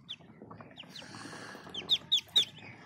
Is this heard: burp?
no